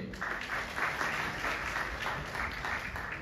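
Audience applause at a Cotton University lecture event: a dense, steady crowd clapping that holds evenly throughout, with no voices over it.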